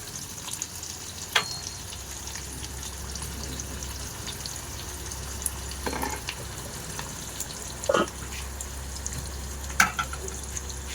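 Tomato dropped into a pan of Bengali curry frying at home, giving a steady soft sizzle with a few sharp clinks and stirring scrapes scattered through, no talk.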